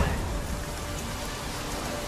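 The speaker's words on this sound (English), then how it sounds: "Looks like rain." Steady rain falling in The Witcher 3, a dense continuous hiss of drops on surfaces, even and close throughout with no talk.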